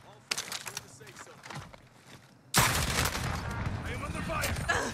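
Gunfire rings out in a shooter video game: scattered shots early on, then a sudden loud sustained burst of rapid fire from the midpoint, with a player's voice talking under it.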